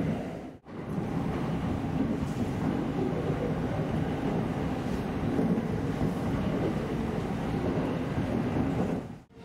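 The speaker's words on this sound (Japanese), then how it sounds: "普段は6両編成が停車する長井駅を6両編成が通過していきます。" A six-car Hanwa Line rapid train runs through Nagai Station without stopping, a steady loud rumble and rush of wheels and air heard from onboard, with brief dropouts at the start and end.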